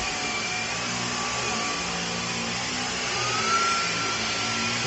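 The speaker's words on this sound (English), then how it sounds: "So it's pretty easy to use on the carpets here." A Dyson Gen5 Detect cordless vacuum runs steadily on carpet, a loud continuous high whine with a slight rise in pitch partway through, with no talking.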